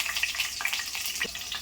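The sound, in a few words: green chilies and cumin sizzling in hot oil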